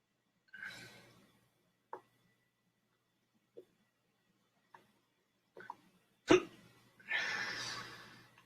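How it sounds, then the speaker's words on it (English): A man's hiccups come as several short, sharp catches spaced a second or so apart, close and quiet, mixed with breathy exhales and no talk. "But I still got the fucking hiccups."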